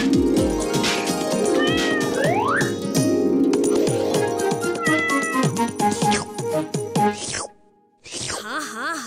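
An animated cartoon kitten meows repeatedly, loud and close, with drawn-out rising and wavering cries that continue almost nonstop before a brief pause and a few more short meows.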